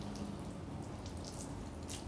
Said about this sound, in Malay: Tengok air dia lari.